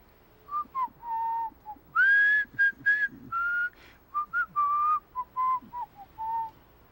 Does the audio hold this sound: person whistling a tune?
yes